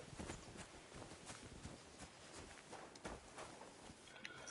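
Horse hooves in the video game Kingdom Come Deliverance 2, a steady, faint clip-clop of hoofbeats on the ground under a dense wash of ambient outdoor noise.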